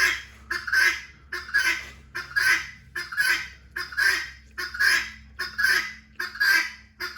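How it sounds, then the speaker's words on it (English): A flock of hungry guinea fowl calls in a steady, repeating rhythm of harsh, honking cries, about nine bursts, fairly close and loud with no talking. "My guineas are hungry."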